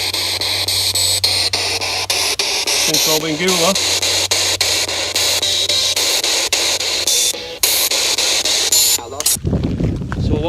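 A ghost-hunting spirit box set beside a grave hisses with loud, continuous radio static that sweeps steadily while a voice talks over it, ending in an abrupt cut-off.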